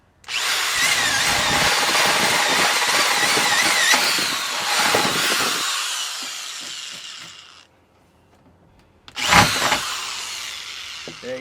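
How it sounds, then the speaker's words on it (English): A drill bit bores a hole through the corner of a plastic hydroponic container, whining loudly and steadily for several seconds, pausing briefly, then a short second burst. "we're actually going to drill a hole"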